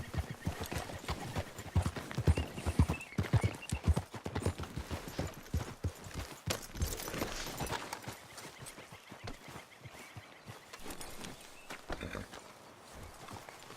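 Horse hooves clip-clop steadily at a riding pace in Red Dead Redemption 2, close and rhythmic, fading somewhat toward the end, with occasional quiet talk.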